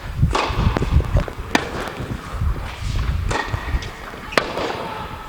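A tennis ball is struck hard back and forth in a rally, giving a handful of sharp, well-spaced pops over steady court background noise.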